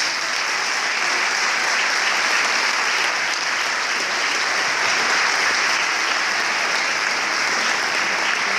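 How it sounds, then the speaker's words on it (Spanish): Loud, sustained applause from the audience at a choir gathering, a dense, even roar of clapping hands that holds steady throughout without pause. "Para todos ellos también, un fuerte aplauso."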